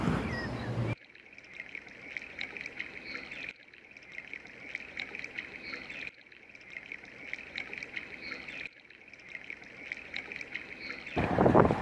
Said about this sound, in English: I think I hear a splashing sound.